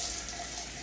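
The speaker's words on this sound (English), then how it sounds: "And this is a very cold shower, so breathe your way through it." Very cold shower water pours steadily and close, a continuous broadband hiss of spray with no voices over it.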